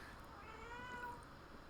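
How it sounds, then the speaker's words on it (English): A pet cat gives a single short, faint meow, heard indoors with no talking. "That's my cat, Gail."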